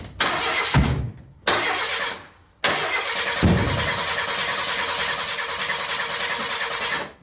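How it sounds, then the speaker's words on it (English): An old junk car's engine cranks repeatedly without catching, several short grinding starter bursts separated by gaps, then a longer sustained churning crank, loud and close with no talk. "even if they did, the car still wouldn't have started."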